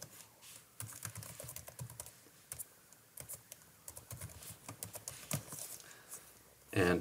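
Fingers type on a computer keyboard in steady irregular runs of crisp clicks and key taps, close and fairly quiet, ending in a louder clattering burst.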